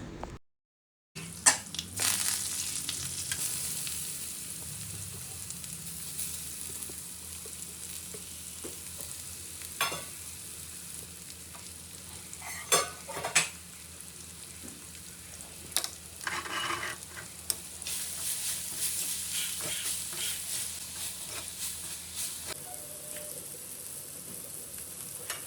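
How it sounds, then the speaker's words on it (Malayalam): Cut beetroot being fried into a curry in a pan gives a faint, steady sizzle throughout. A spoon scrapes and stirs now and then, with scattered clinks, and the only pause comes near the start. "ബീട്രൂട്ട് കട്ടാക്കിയിട്ടുണ്ടെങ്കിൽ അതൊക്കെ ഇട്ടുകൊടുത്ത് കറി വറവ് ചെയ്തു"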